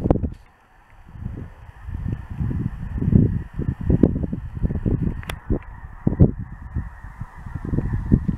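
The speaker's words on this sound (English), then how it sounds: "there's a lot of geese landing" A flock of geese honks repeatedly nearby, with overlapping calls and flapping commotion as birds come down, fairly loud throughout.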